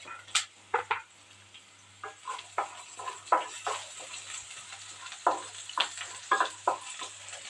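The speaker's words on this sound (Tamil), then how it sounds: "இப்போ இந்த வெங்காயம் நல்லா வதங்கிருச்சு" Onions sautéing in a pan: a soft sizzle under irregular scraping stir strokes, some quick and clustered, others spaced apart, close but fairly quiet.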